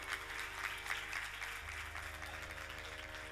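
An audience claps at a Shrimad Bhagavat Saptah gathering in Una, a soft, steady patter of many hands heard from a distance, with a faint tonal drone running underneath.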